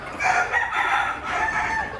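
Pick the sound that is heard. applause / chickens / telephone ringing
chickens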